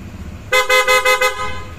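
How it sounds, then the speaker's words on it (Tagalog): A loud, brassy PIAA aftermarket car horn honks in a rapid burst of about five pulses, close by, after a moment of quiet background. "Pabusina mo na, pogi."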